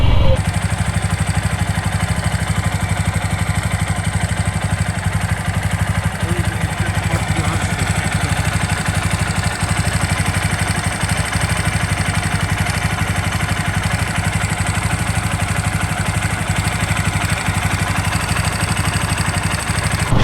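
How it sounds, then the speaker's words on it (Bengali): A TVS Apache RTR 160 4V motorcycle engine with a reported abnormal noise runs steadily at close range, a continuous idling drone with faint clattering and no pause for the whole stretch. "আপনারা শুনুন যে ইঞ্জিনে কীরকম আওয়াজ আসতেছিল"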